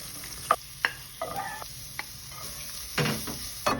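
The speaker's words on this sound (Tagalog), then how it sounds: "Ganyan tusta na yung bawya tsaka yung sibuyas" Garlic, onion and ginger frying in a pan for a beef pinapaitan dish make a soft, low sizzle, with several distinct knocks and scrapes of a stirring utensil and no voices.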